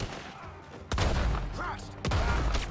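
Gunfire in Red Dead Redemption 2, two loud booming shots about a second apart over a din of battle and shouting voices.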